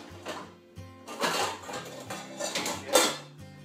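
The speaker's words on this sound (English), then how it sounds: "Now what you're going to need to do is get out a saucepan." A saucepan comes out of a kitchen cupboard with a run of metallic clanks, scrapes and knocks of pots shifting against each other, several sharp close clatters with no talking.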